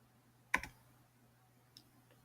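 A single sharp computer mouse click, followed about a second later by a fainter click, in an otherwise quiet room.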